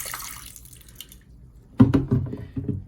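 Dirty water is dumped from the tank of a Bissell TurboClean PowerBrush Pet carpet cleaner, a sudden close splash and gurgling pour that follows a quiet pause.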